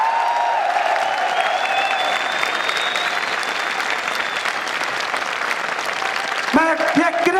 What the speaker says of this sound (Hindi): एक बार जोरदार तालियां के लिए हो जाए।